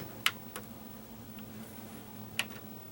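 A 1986 LXI VCR tape mechanism struggling to rewind gives a few faint sharp ticks and clicks over a low steady mechanical hum, sparse and irregular, with no talking.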